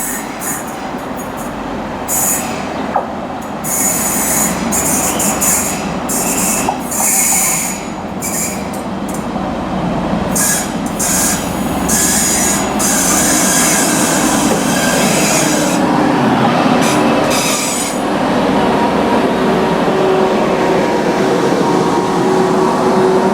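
A passenger train from Hull to Manchester Piccadilly, in double formation, rumbles loudly close by at Stalybridge station, with continuous rolling noise, hissing, and a high wheel squeal drawn out across the passage.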